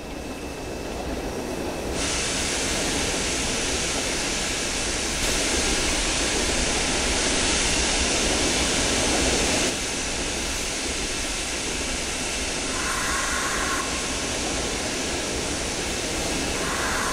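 Steam roars from the lifting safety valve of Pacific steam locomotive #1086 as boiler pressure reaches 200 PSI. It is a loud, steady hiss that starts after two seconds over a low background rumble and eases after about ten seconds.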